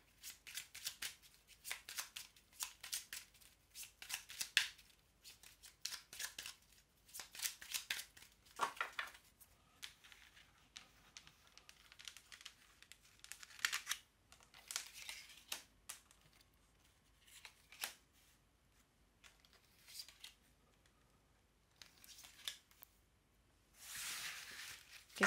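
Tarot cards being reshuffled give quick, soft papery riffles and flicks in irregular bursts, close and faint, separated by brief pauses.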